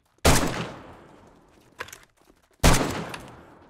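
Gunfire in the zombie survival game 7 Days to Die: two loud, close bursts of rapid shots, each ringing out and fading, with a short, quieter crackle of fire between them.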